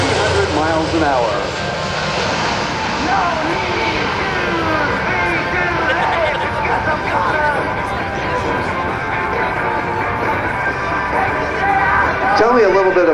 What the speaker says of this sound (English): we're going to have a nice flyby, so look left, everybody